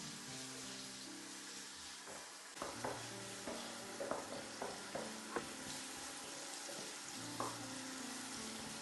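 Finely chopped ginger and garlic frying in oil for a salmon head curry, a soft steady sizzle with a series of light stirring clicks and taps, no talking.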